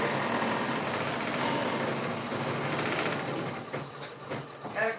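An embroidery machine stitches the flap of a clutch held in the hoop, a dense, steady mechanical whir and rattle that runs on, then thins and stutters near the end.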